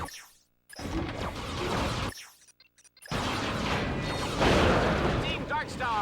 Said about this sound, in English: Let's use a magma cannon to clear the way.